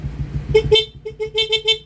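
A Honda Click V3 scooter's loud horn honks several times in short, sharp toots, one long double blast followed by a quick run of brief beeps, close and loud.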